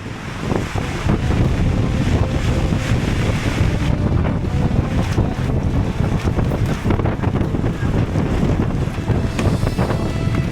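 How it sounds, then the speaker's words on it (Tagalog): Strong wind on a very windy day buffets the microphone in a loud, continuous roar with gusting rumble, steady throughout with no voices. "Grabe naman ang lakas ng hangin ngayong araw"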